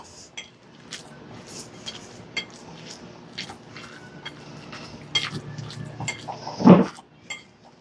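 A spoon stirring a lasagna cheese mixture seasoned with black pepper in a bowl, with soft squishing, scattered clinks against the dish and a louder knock near the end, close and alone without talk.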